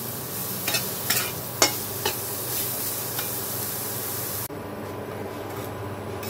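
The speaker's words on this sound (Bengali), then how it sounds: "এই বেগুনটা কিন্তু ভাজার সময় বেগুনটাকে গলানো যাবে না, বেগুনটা গোটা গোটাই থাকবে" Brinjal pieces fry in oil in a pan with a constant sizzle, while a few scraping stirring strokes come through early on.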